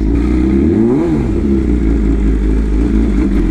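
A Suzuki Hayabusa with its stock exhaust cruises along with a steady, loud engine drone that swells briefly in a quick rev near the start before settling back to an even hum.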